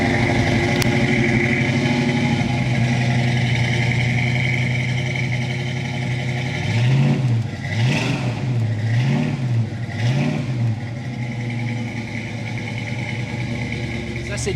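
A Ford Mustang engine idles with a deep steady rumble, then is blipped several times in quick succession, each rev swelling and falling back, with people talking nearby.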